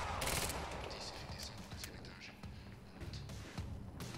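Assault rifle fire in the video game Quantum Break, a dense stream of crackling shots and sharp bursts over about four seconds, with voices talking over the gunfire.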